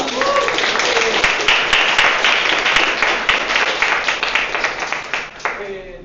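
An audience at a privacy and scaling explorations event bursts into sustained, dense applause, many hands clapping close and loud with scattered whoops, tapering slightly toward the end.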